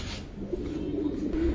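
A pair of Giribaz pigeons cooing softly, a low murmuring coo over a short stretch with steady background noise, fairly faint and without speech.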